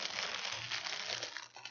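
Crinkly wrapping being handled and taped around an Avon gift basket, a continuous close rustle and crackle of plastic film.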